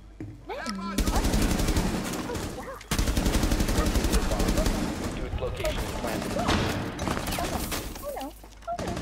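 Rainbow Six Siege gunfire rattles in long, dense automatic bursts, loud and continuous with brief pauses between them, while players talk and shout over the shooting.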